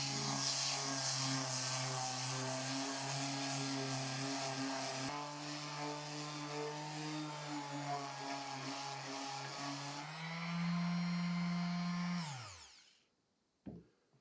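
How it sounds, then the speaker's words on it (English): A steady, loud power sander whirs over an engraved knife handle surface, its tone shifting partway through before spinning down to silence near the end, followed by a brief knock. "I use a hard brush to scrub any remaining ash out and then quickly sand the surface clean."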